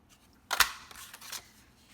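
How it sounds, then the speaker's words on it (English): Paper punch snapping through an embossed piece of cardstock for a card: a single sharp crunching click, followed by a brief rustle of the paper being handled, close and alone without talk. "I'm going to use my punch and punch it out."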